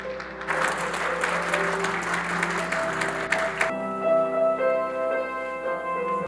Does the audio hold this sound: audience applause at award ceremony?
yes